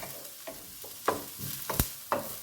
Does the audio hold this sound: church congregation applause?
no